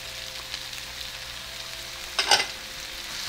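Chopped onion, roma tomato and jalapeño fry in hot oil with a steady, close sizzle, broken once by a short clatter of stirring.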